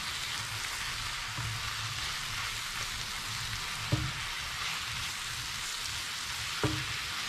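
Garlic and thyme leaves are stirred into a mushroom sauce in a pan, giving a steady soft sizzle with faint stirring scrapes and two brief clinks, no talking.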